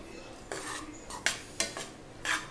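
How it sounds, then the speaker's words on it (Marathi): A metal spoon stirs and breaks up lumps of besan (gram flour) roasting in ghee in a pan for besan ladoo, giving several separate scraping and clinking strokes, close and moderately loud, with no voices. "तर अशा चमच्याच्या साह्याने हे असं जर त्याच्या गुठळ्या होत असतील तर ते अशा फोडत"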